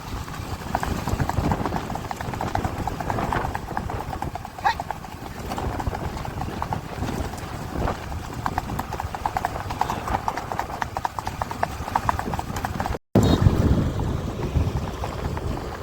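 Sindhi-breed racing horses in a rewal chal race in Kutch clip-clop in a fast, continuous patter of hooves close to the microphone, with heavy wind buffeting and a brief dropout near the end.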